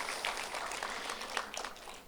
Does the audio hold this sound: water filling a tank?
no